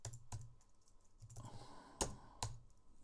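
Someone types a name on a computer keyboard in a studio setting, giving a few scattered key clicks and taps with short pauses between them, fairly quiet and close, with no talking.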